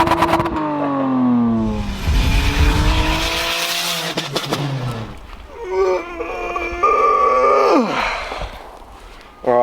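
A Lexus IS200 fitted with a custom exhaust revs hard and close by, rising and falling engine notes with sharp throttle blips and crackles, with brief voices between the revs.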